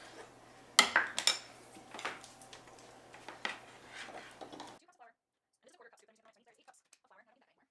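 A food processor is handled and set down on a kitchen counter while sourdough discard blueberry scones are being made. A sharp clatter comes first, then a few lighter knocks and clinks, and soft scattered handling noises follow after a quiet pause.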